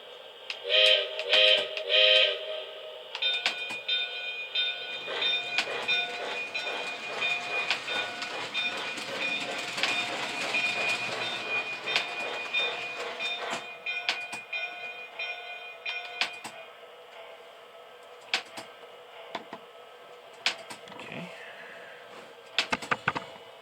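A Lionchief 4-4-0 PRR model train locomotive runs along with a steady mechanical hum and rhythmic clicking, a few sharp clacks and bumps near the start and end.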